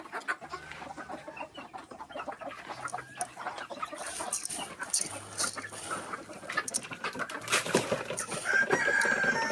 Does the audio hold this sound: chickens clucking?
yes